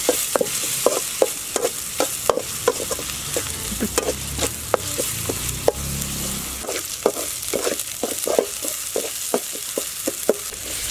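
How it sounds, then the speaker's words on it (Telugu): Ginger garlic paste frying in a pan for a curry-point style chicken fry, a steady sizzle running under rapid, rhythmic scrapes of a spoon stirring it, close and fairly loud with no voices. "ఇప్పుడు అల్లం వెల్లుల్లి పేస్ట్ వేసుకొని పచ్చి వాసన పోయే వరకు ఫ్రై చేయాలి"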